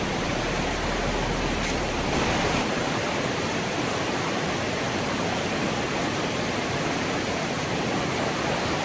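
Cold outdoor water at Pulau Chekas in Raub, Pahang, around seven in the morning: a steady, unbroken rush of running water fills the whole clip, loud and close, with no voices.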